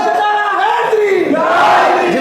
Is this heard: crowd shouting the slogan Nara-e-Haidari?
yes